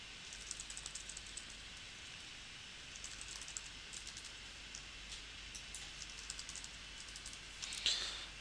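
Quiet, irregular keystrokes on a computer keyboard as a password is entered, soft clicks in uneven bursts against a faint background hum, with a slightly louder click near the end.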